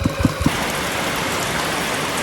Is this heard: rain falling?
yes